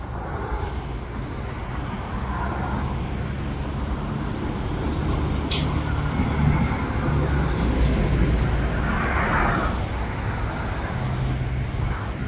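Steady traffic roar at a busy road interchange, continuous rumble of passing cars and heavier vehicles heard from a distance, with occasional swells as vehicles go by and no talking.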